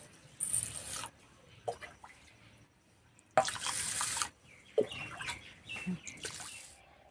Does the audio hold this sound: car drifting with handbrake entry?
no